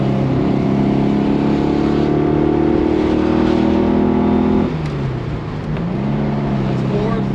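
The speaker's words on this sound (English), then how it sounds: "Try to hit all the gears, Chris." A 1967 Porsche 912 flat-four is driven hard through its gears, a loud, close engine drone climbing steadily before easing off at a shift and then picking up again.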